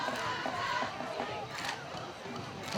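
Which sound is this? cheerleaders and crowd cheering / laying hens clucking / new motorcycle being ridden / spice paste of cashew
cheerleaders and crowd cheering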